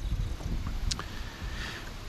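Gusty wind rumbling and buffeting a microphone out on Grand Lake during a fall crappie fishing tournament, a low continuous roar with faint splashes and knocks from the boat, no talking.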